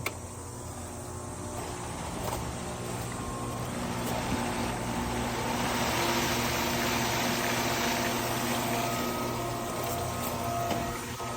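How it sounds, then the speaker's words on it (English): A pool filter pump running in backwash mode, with a steady, loud whooshing rush of water and motor drone that holds constant throughout and no talking. "So filter pump off, clockwise again, to backwash, filter pump on."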